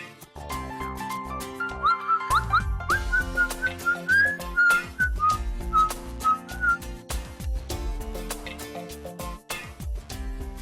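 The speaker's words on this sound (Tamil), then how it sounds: "திடீர்னு விசில்லாம் ரொம்ப பலமா இருக்கு." A person whistles a loud, bright melody over instrumental background music, the tune rising and falling in clear phrases for several seconds.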